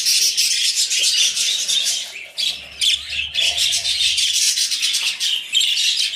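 Rainbow budgerigars in a breeding cage with their chicks chirping and squawking continuously, a dense busy chatter of several birds close by, with no voices heard.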